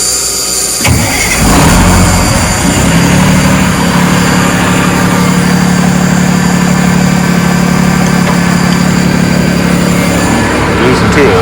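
Cummins L10 diesel engine in a Ford L9000 truck cranking over and catching, then settling into a loud, close, steady rumbling idle with brief voices underneath.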